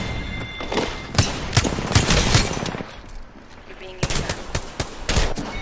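Gunfire from a G7 Scout rifle in the video game Apex Legends, a string of sharp, loud shots in quick irregular bursts that break off briefly before resuming, with some voice mixed in.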